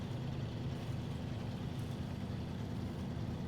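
A truck engine idles in SnowRunner, a steady low rumble that holds at an even level without revving, with no voices over it.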